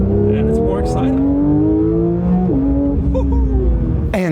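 A 2022 Porsche 911 GT3 of the 992 generation drives past, its engine note climbing steadily through the gears, loud and close, with voices talking over it and a sharp burst of noise at the very end.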